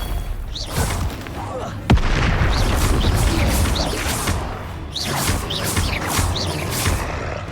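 A Confringo blasting spell explodes in the Hogwarts Legacy video game, a sharp boom near two seconds amid a dense run of whooshing spell casts and crashing impacts in a busy combat mix.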